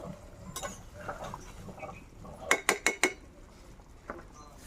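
A lid comes off a pan of Bombay duck fish curry, followed by gentle stirring: soft scrapes, then four quick metallic clinks in a row and a final tap, under a low background hum.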